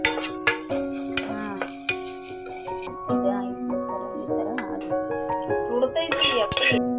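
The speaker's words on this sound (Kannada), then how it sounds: "ಕ್ಯಾಬೇಜ್ ಪಾಸ್ತೆ ಹುರಿಯೋದಕ್ಕಂತ ಹಾಕಿದ್ದೀನಿ" Cabbage stirred and frying in a pan for cabbage bath, with a steady sizzle, spoon scrapes and metallic clinks against the pan throughout, while a voice talks over it.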